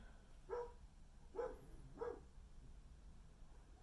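A dog barks three times, faint and fairly distant, in separate spaced yips over a quiet indoor background.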